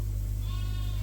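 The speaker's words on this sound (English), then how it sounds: "Here's one of Looney's little lambs." A young lamb in a snowy Canadian barn during lambing season gives a short bleat, heard close over a steady low hum.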